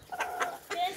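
Farmyard chickens cluck in a quick burst of three or four close, moderately loud calls, with a voice mixed in.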